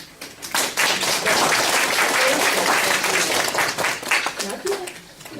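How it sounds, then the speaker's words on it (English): A round of applause for a speaker at a stroke survivor lunch-and-learn event: a sustained, moderately loud burst of clapping from a small audience that thins out toward the end, with a few voices underneath. "please join me in a round of applause for Miss Valerie"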